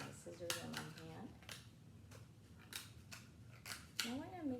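Scissors snip through paper while making a Taj Mahal craft, several crisp close cuts spaced irregularly, with someone talking over and between them.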